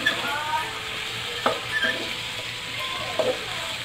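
Okra sautéing in a pan for monggo soup with pork: a steady sizzle with a few sharp scraping clicks of a utensil stirring, close and alone.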